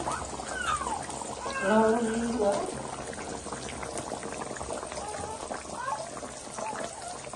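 Fish frying in a pan at a village cooking spot, a continuous bubbling sizzle of oil heard up close, with a brief rise in the middle and a faint voice in the background.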